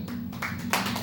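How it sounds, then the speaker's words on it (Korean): During a Sunday church service, a congregation claps in a short burst of a few hands, fairly faint and uneven over a low room hum. "서로 박수 쳐주세요."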